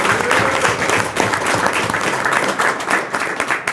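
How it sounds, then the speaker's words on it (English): Steady, dense audience applause fills the whole stretch at close range, a continuous wash of many hands clapping with no talk on top. "should get applause."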